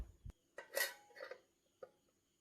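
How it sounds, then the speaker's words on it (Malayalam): A few metallic clanks and clinks of a lid settling onto a pot of mushroom masala, with short gaps between each knock. "പാത്രം ഒന്ന് അടച്ചു വെക്കാം."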